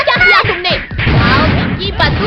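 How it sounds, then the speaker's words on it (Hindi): Firecrackers bursting at a Dussehra Ravana effigy burning in a cartoon scene, a dense run of loud cracks and booms mixed in with animated character voices talking throughout. "आओ पिंकी बद्दू वहाँ देखो पटाखे।"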